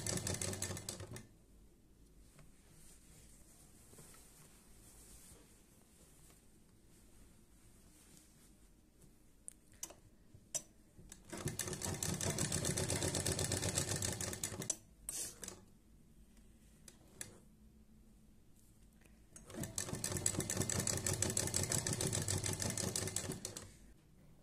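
A sewing machine stitches a lungi in two long, steady bursts of dense rattling whir, each several seconds long, separated by quieter pauses with faint handling noises and no talking.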